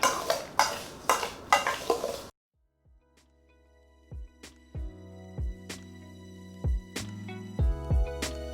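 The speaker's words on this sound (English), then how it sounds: "we're gonna mix this all up" A simmered apple mixture is stirred in a pot with a burst of wet scraping at first, then a pause, followed by a string of sharp, ringing knocks against the pot.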